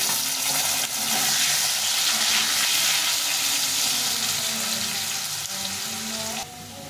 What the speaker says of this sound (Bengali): আলুগুলো একটু প্রথমে ভেজে নেব